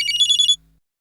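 A telephone rings with an incoming call from an unknown number in a Tamil TV serial scene, a loud, bright, rapidly pulsing ringtone that sounds for about half a second and then cuts off into silence.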